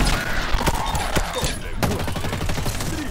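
A three-shot burst weapon in Halo Infinite fires several rapid bursts of sharp cracks amid busy game noise, with someone speaking Spanish over the shooting.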